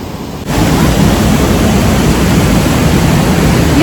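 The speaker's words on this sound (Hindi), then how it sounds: "जो नदी का जो फ्लो है वो भी बहुत ज़्यादा तेज़ है" Fast-flowing river near Manali, a loud, dense, continuous roar of rushing water that swells up after a brief quieter start and stays steady to the end.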